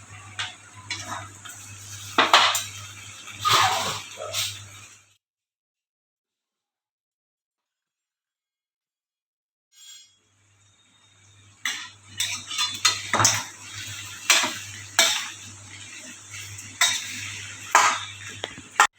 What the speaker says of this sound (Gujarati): બધું મિક્સ કરી લેશું